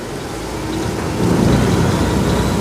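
Rain pours during a boat trip along a Bangkok canal, a steady patter and hiss that grows heavier partway through, close and continuous with a low rumble underneath.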